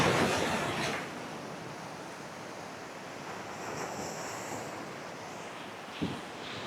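Ocean waves wash against the rocks at St. Angelo Fort in Kannur, a continuous broad roar with wind buffeting the microphone. The sound is loudest at the start, then settles into a steady rush.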